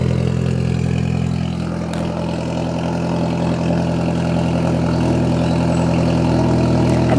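A car engine idles loudly through an ISR Performance Series II EP single-tip blast pipe exhaust, a steady deep rumble with a slight dip partway, close by and alone.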